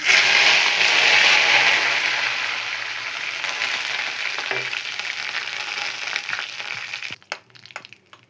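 Loud, steady sizzling and crackling of leaves frying in hot oil, bright and close, fading at the end into a few scattered pops.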